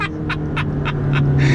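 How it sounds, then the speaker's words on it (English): McLaren 12C supercar exhaust crackling on a downshift: a run of five or six quick, evenly spaced pops over a steady low engine drone, close and fairly loud. "You get a little crackle from the exhaust."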